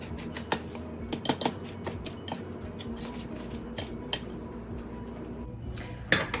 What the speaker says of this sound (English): I'm just going to take a big fork and mix those together